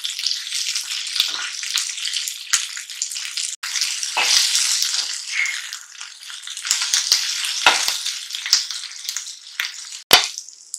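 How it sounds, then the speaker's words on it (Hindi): Dense, steady sizzling and crackling of onions frying in a pan, close and fairly loud, with occasional clinks of a utensil. "सुनेली रंग आसा पर्यंत प्याज टाकू आमे"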